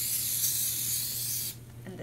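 A steady hiss of a spray bottle spraying a floppy hat, continuous for about a second and a half, then cutting off abruptly, leaving quiet background.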